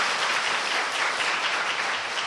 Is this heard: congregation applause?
yes